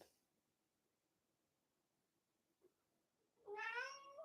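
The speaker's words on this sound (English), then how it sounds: "My cat just walked in." A cat meows loudly and close by near the end, a drawn-out cry following a long stretch of near silence with a faint rustle in the middle.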